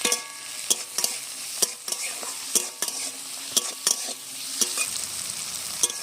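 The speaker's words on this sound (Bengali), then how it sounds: "এবার ভালো করে মশলাটা আরেকবার ভেজে নেবো" Spice masala with tomato and onion fries in a pan, a steady sizzle punctuated by repeated sharp clacks of a spatula stirring against the metal.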